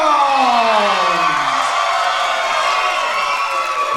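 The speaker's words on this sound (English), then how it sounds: "the crowd has cast their vote, and it is a landslide towards Lil Marz" A live wrestling crowd under a big top roars and whoops for Lil Marz, a loud, continuous wash of cheering with rising and falling shouts layered over it.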